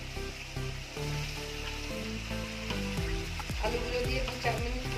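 Potatoes going into a frying pan of hot oil and spices for a vegetarian paneer curry, a loud steady sizzle with stirring, under background music.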